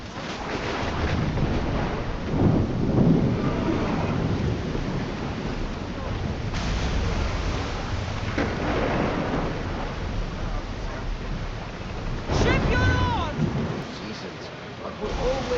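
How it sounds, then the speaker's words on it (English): Stormy sea in Assassin's Creed Odyssey, a steady roar of wind and crashing waves around a boat, with rumbling surges and a voice speaking over the din. "That looks like quite the storm!"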